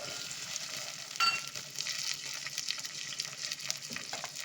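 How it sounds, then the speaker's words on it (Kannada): Cauliflower and peas fry in hot oil with onions in a pan, giving a steady close sizzle with bursts of crackle and stirring scrapes. No voices are heard. "ಇದರಲ್ಲಿ ಎಣ್ಣೆಯಲ್ಲೇ ಚೆನ್ನಾಗಿ ಫ್ರೈ ಮಾಡ್ಕೊಳ್ಳೋಣ"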